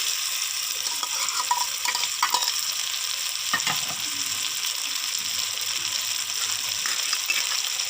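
Green chilies, onion and tomato fry in a pan with a steady, close sizzling hiss, broken by occasional stirring scrapes and light clinks, with no voices.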